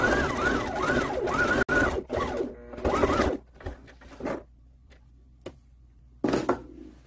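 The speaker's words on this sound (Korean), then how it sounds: "5cm 정도 남겨놓고 세로로 박음질 했습니다" A sewing machine stitches a rayon sleeveless dress facing in quick whirring bursts with rising and falling motor pitch, followed by a few short clicks and one last burst, with no talking.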